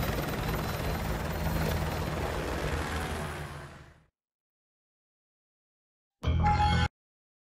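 A helicopter in Call of Duty Modern Warfare 2 thunders with a loud, dense rotor and engine roar that fades out abruptly, then a short loud mechanical burst returns after a pause.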